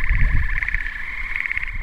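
Toads croaking in a zoologist's laboratory full of lizards and toads, a steady rapid trilling croak that repeats loudly and close for the whole stretch, with no talking.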